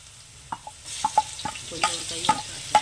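Ginger garlic paste and shallots sizzle in hot oil for a fish curry, with a quiet frying hiss under sharp metallic clinks and scrapes of a stirring spoon.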